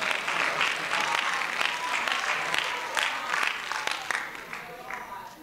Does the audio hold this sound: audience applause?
yes